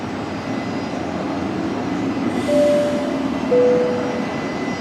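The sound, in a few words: train passing near Brisbane Airport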